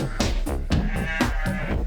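Sheep bleat in a series of wavering, nasal calls, several overlapping bleats in quick succession, loud and close with no talk.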